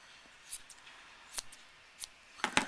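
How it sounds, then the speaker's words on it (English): Scissors snip at a yarn pom-pom to trim it, giving several sharp, separate clicks spaced irregularly with a quick double snip at the end, close and fairly quiet. "Now just cut it to the length of the other pom-poms"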